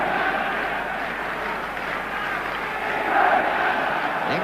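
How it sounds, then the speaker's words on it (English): Football crowd at the 1966 World Cup Final between England and Germany at Wembley, a dense continuous buzz of thousands of voices murmuring and calling, steady throughout and swelling slightly near the end. "Crowd buzzing, arguing, wondering"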